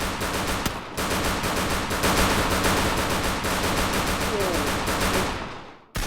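Sustained automatic gunfire from the Free Fire video game, a rapid, unbroken stream of loud shots with a brief gap near the start, cutting off abruptly at the end.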